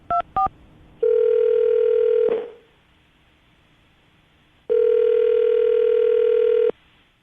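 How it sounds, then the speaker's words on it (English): Two quick dialing beeps, then a long steady phone ringing tone that cuts off, a pause, and the tone sounding again for about two seconds, during a radio show call. "I'm going to dial the phone number, see if we can get her on the phone"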